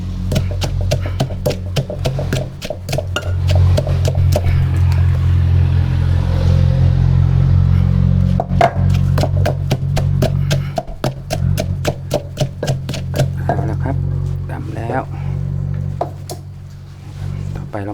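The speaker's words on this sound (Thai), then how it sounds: "หั่นเนื้อกันทำชิ้นเล็กชิ้นน้อยก็แล้วแต่เรา" Meat is chopped into small pieces with a knife during outdoor Thai cooking. Sharp, rhythmic chopping strikes come close and loud over a steady low engine-like hum.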